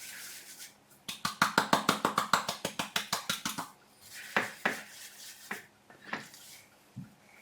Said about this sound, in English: Okay, then you just put the seasoning on top of it. Rub in on both sides.